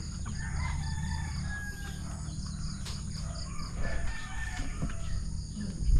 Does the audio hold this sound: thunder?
no